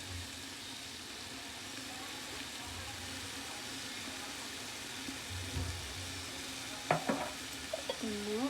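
Chicken biryani masala with turmeric and biryani spice frying quietly in a pan, a faint steady sizzle with soft stirring scrapes, and a few clinks near the end.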